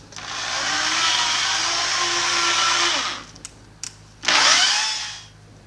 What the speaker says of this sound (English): turning your drill to its low setting, turning on, and then speeding up until it starts to go to a haze